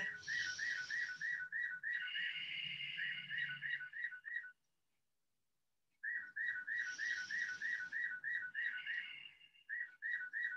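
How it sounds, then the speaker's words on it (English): A bird clock chimes with recorded birdsong indoors, repeated warbling whistled phrases in two bursts separated by a brief silence, clear and fairly close in a quiet room. "Forgive my bird clock sounds."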